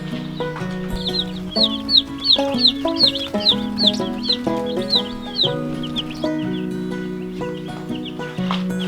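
A batch of newly arrived chicks cheeping in quick, high-pitched peeps that come in clusters, with a steady tonal hum running underneath.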